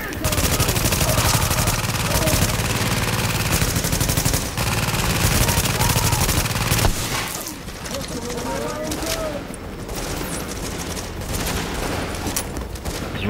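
An automated sentry gun in The Division firing rapid continuous bursts, loud and dense for several seconds before cutting out, followed by scattered distant shots and gameplay noise, with players talking over it.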